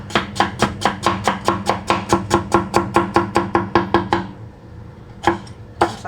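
A knife chopping through papaya on a board, about twenty quick, evenly spaced crisp cuts close up, then a pause and two final chops.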